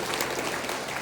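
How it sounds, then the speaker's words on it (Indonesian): Dense, steady applause from a congregation during a Sunday worship service in a church, many hands clapping at once and filling the space evenly. "Berikan tepuk tangan bagi Tuhan kita."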